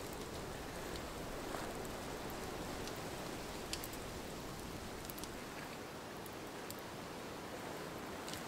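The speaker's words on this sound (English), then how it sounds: "Starting to rain." Light rain beginning to fall on a UK wild campsite around a canvas lavvu tent, a soft steady patter and hiss of drops throughout, faint and even with occasional sharper taps.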